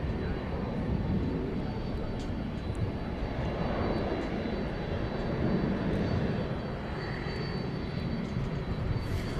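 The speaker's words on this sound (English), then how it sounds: "It's an Airbus A319." An Airbus A319 jet airliner at DFW Airport at night, its steady engine roar filling the scene continuously, broad and moderately loud without clear rise or fade.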